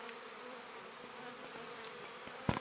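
Honey bees buzz around an open hive during a spring inspection, a steady low drone throughout with a brief sharper knock near the end.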